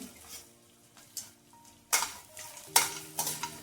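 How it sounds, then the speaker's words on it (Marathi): Edible gum (dink) fries in hot oil for laddoos, a soft sizzle broken by sharp clinks and scrapes of a spatula against the pan, several distinct strikes toward the end, no talking. "आता घेणार आहे डिंक तळून"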